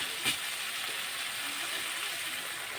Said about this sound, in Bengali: আলুগুলোকে ভালো করে কষিয়ে নেব